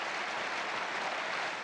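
Roland-Garros tennis crowd applauding steadily, a dense continuous wash of clapping filling the stands without pause.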